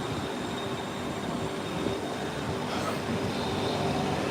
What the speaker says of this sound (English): Oh, here's our train right here